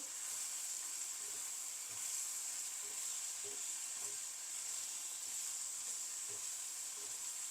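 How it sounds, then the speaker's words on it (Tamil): Ponnanganni greens and jackfruit seeds sautéing in a pan, a steady soft sizzling hiss with a few faint stirring taps, fairly quiet and continuous without speech. "இப்போ எல்லாம் சேர்ந்து நல்லா வதங்கட்டும்"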